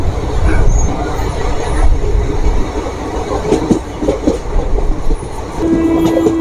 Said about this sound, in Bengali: লোকাল ট্রেন চলে যাচ্ছে সোজা